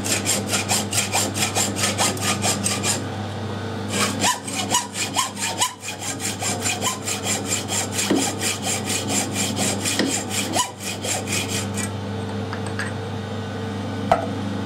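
Hand saw cutting metal during Sentinel engine work, with rapid rhythmic back-and-forth strokes, close and steady, pausing briefly a few times before resuming.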